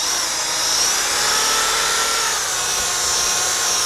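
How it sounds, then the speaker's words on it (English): An electric drill spins a buffing ball polishing a handheld motorcycle part with Flitz polish, giving a steady, close whirring hiss that holds throughout without pause or talk. "And you can run the drill slow."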